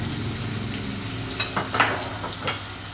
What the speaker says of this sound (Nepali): प्याजलाई चाहिँ राम्रोसँग हामी फ्राई गरौँ